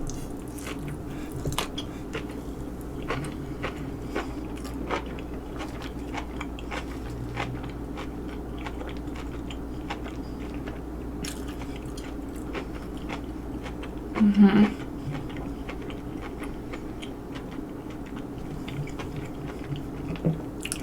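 Someone eats a Korean keto meal, with soft, steady chewing and occasional moist bites close up over a low background hum, one brief louder crunch midway.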